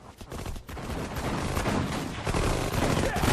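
Dense gunfire rattles nonstop in the Sudden Strike 4 strategy game, with overlapping machine-gun bursts and shots forming a loud, continuous battle din.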